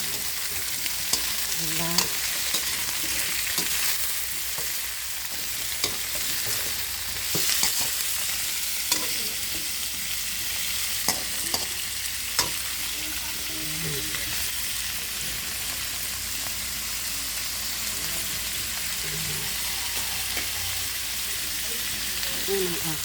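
Chicken for tinola frying in a pan and being stirred, a steady close sizzle running throughout with scattered scrapes and clinks of a utensil, and a brief voice.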